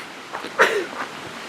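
One short, sharp sneeze bursts out nearby outdoors at a summer camp by a spring, against a quiet background.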